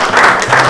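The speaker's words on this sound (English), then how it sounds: "Clap." A brief, loud burst of group clapping as a crown prince steps forward at a gathering, close and dense, under a second long.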